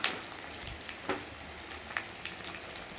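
Onions and green chilies fry in a pan, giving a soft, steady sizzle with occasional small pops and crackles, quiet and close with no talking.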